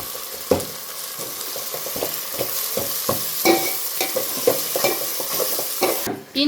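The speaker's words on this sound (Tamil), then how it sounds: "அதை போட்டுட்டு நல்லா வந்து மிக்ஸ் பண்ணி விட்டுட்டோம்னா அதுவும் நல்லா வதங்கிடும்" Ginger garlic paste sautés in a hot pan, sizzling continuously while a spatula scrapes and stirs in repeated clinks and scrapes, close and clear with no talk.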